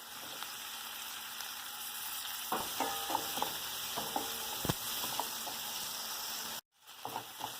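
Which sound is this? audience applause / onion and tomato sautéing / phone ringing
onion and tomato sautéing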